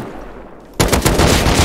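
Rapid automatic gunfire in a shooter video game bursts in abruptly after a quiet moment, loud dense repeated shots continuing to the end.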